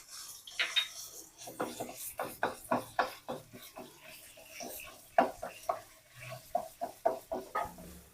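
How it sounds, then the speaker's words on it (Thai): Minced pork stir-fried with garlic already fried golden in a pan for a Thai glass noodle dish, heard as a steady run of rhythmic scraping and sizzling strokes of a utensil against the pan, close and moderately loud. "แล้วเราก็จะใส่เนื้อหมูลงไปนะคะ เราจะใช้เป็นหมูสับนะคะ ใส่ลงไปเลยค่ะ"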